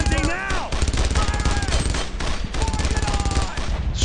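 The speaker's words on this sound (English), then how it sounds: "Target that MG-42!" MG-42 machine gun fire in the WWII shooter video game Brothers in Arms makes a loud, fast, rattling stream of shots. Overlapping gunfire, whistling sounds and shouting voices fill the stretch and keep it busy.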